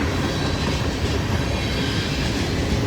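A long loaded freight train carrying coal and manifest cars rolls past nearby in a steady, dense rumble, with rhythmic clickety-clack from its wheels over the rail joints throughout.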